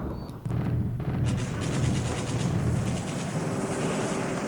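Battleship shell bombardment in the War in the Pacific naval strategy game, a dense rumbling roar of continuous heavy booms that holds steady throughout.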